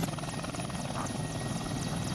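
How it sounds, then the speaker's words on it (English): A helicopter passes overhead in a tank video game, its rotor chop beating steadily and loudly over a constant engine drone. "the helicopter flew over and I gotta look at it"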